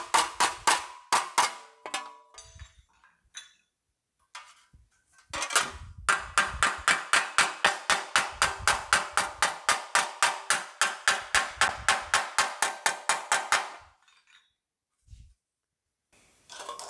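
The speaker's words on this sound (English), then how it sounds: "we're going to have to take and hammer that into itself to shrink it in" A long run of steady, evenly spaced metallic hammer blows rings out close by as sheet metal is hammered into itself to shrink it, with a few scattered strikes before it and a brief pause in between.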